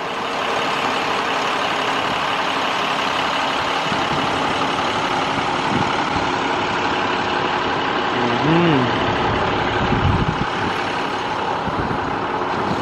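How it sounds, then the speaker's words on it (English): A school bus diesel engine idles steadily with a dense, even rumble and clatter nearby, constant throughout, as a person talks briefly over it. "Brr, hear that diesel going."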